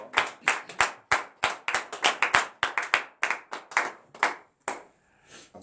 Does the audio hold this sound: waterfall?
no